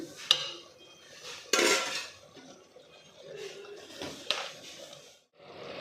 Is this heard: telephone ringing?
no